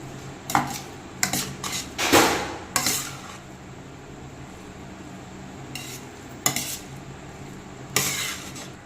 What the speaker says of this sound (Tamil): சுட சுட சாதத்தை இதெல்லாம் கொஞ்சம் கொஞ்சமாக ஆட் பண்ணி நல்லா கிளறி விட்டுக்கலாம்